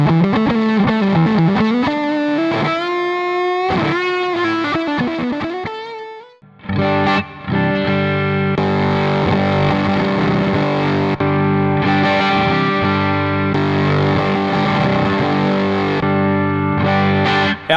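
An electric guitar plays through a banana-powered distortion pedal on its massive pineapple setting. A bending, wavering lead line gives way to thick, heavily saturated sustained chords, loud and close with no talking.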